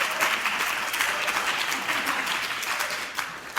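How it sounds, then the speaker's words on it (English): An opera company audience claps during an introduction, a sustained round of applause that stays fairly even throughout and thins slightly near the end. "Yes, go ahead, clap."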